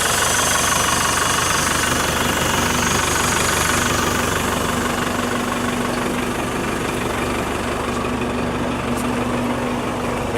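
A Range Rover Classic with a new exhaust idles in a smooth, continuous, close-up rumble, its exhaust note steady and unbroken throughout, with no voices.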